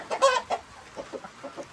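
Chickens clucking up close, a quick run of short clucks and squawks in uneven rhythm, clear and fairly loud with no talk over it.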